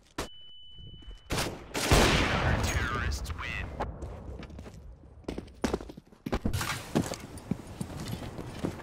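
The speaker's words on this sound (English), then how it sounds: "Throwing flashbang." A flashbang grenade is thrown and goes off in a tactical video game, with a sharp blast and ringing tone, followed by clattering gunfire and scuffling under excited voices.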